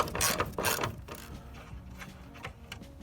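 A ratchet removes a 10mm bolt on a Ford Mustang hood during a hood strut install, giving a few quick close mechanical clicking bursts, loudest early and then trailing into fainter ticks.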